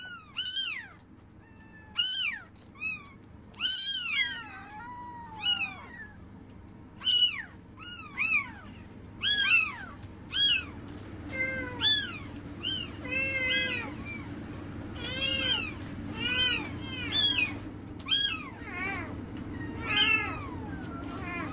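A cat meows again and again, a long run of close, clear cries that come in irregular bursts of one to three, some drawn out and wailing, over a low, steady background hum.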